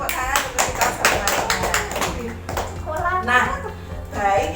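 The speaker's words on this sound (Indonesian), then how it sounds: "Tepuk tangan untuk kita semua" A group applauds after a chant at a stunting-prevention gathering, with quick overlapping claps at first, then fading into voices and chatter nearby.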